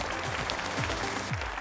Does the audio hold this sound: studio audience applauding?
yes